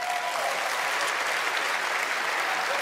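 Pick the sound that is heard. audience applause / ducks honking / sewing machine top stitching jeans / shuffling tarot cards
audience applause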